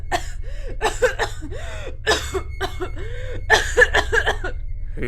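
A woman coughing repeatedly in a dramatized horror audio story, a run of harsh, wet coughs and throaty gasps in quick bursts over a low steady background rumble, close and fairly loud.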